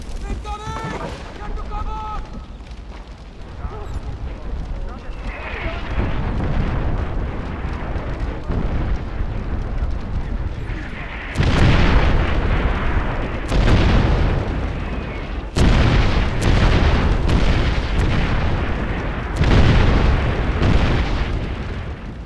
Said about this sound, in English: Jay, you've got artillery incoming. Find cover.